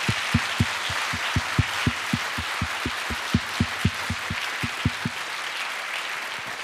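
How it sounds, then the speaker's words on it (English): A crowd at a closing ceremony in Riga, Latvia applauds the assistants with sustained clapping, steady and fairly close, a few louder claps standing out in a regular beat. "huge claps to the assistants and everyone involved"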